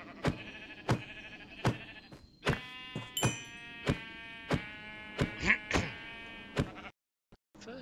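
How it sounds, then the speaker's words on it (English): Sheep bleating in a Minecraft-style block game, several short nasal bleats repeating over a series of sharp, regular clicks or taps, clear and close, ending in near silence. "First sheep I've seen."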